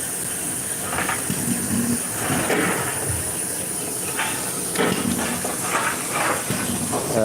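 A steam train hisses continuously with a high whistling tone, while rhythmic chuffs and clanks of machinery come and go nearby.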